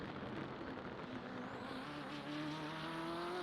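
A BMW M8 GTE race car in the iRacing game laps the Detroit Belle Isle street circuit, its engine note climbing steadily in gear under faint tire noise, loud and continuous with no talk.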